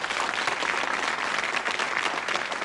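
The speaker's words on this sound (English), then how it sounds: "Give them a round of applause." Studio audience applause on a game show, a dense, steady burst of many hands clapping at close range, holding at an even level for about three seconds with no talk over it.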